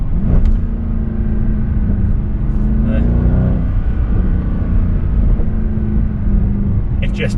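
A 2012 Mercedes C63 AMG V8 rumbles loudly while driving, its deep exhaust note swelling and easing with a few sharp pops and crackles, heard up close from the cabin with wind noise.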